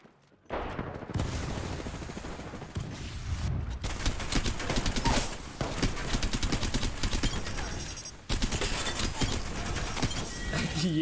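In an Apex Legends-style battle royale match, dense gunfire rattles for several seconds: rapid automatic bursts and sharp shots overlap in loud, steady volleys, broken by a brief pause near the end.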